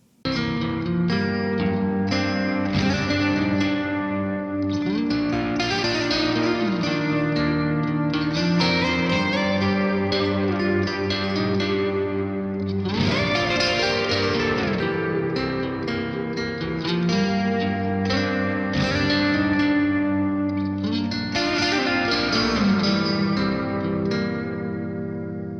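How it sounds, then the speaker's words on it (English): An East German reverb unit adds a lush, washy tail to sustained chords, the effect blooming continuously across the passage and smearing notes together loudly with no talk. "this is a reverb that you can use"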